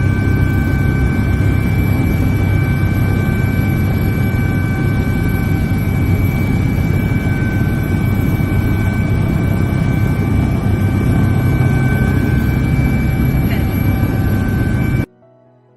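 Steady, loud roar of a helicopter in flight, heard from inside the cabin as a constant dense drone that runs without a break and then cuts off abruptly at the end.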